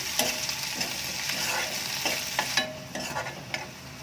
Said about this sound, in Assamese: আদা নহৰু কেঁচা ভাতটো যোৱালৈকে ভাজি